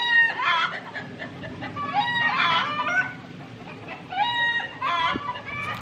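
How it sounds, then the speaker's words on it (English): Chickens cluck nearby in repeated bursts, with a rooster-like call among them, moderately loud over quiet outdoor background. "The chickens."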